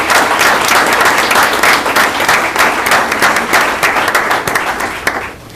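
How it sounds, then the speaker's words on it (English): Applause from a school board meeting audience for a commended student, loud and close, with dense overlapping claps sustained for about five seconds before dropping away at the end. "Clap for her."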